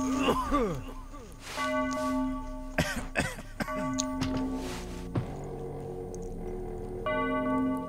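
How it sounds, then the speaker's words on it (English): A tolling bell in the Maid of Sker horror video game rings several times with long resonant decays, interrupted by short sharp knocks and game noises. "does anyone else think that bell sounds like the Taco Bell bell?"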